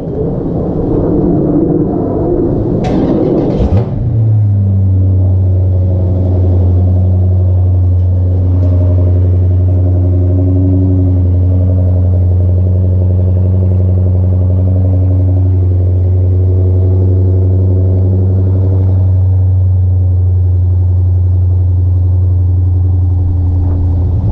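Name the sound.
car engine starting and running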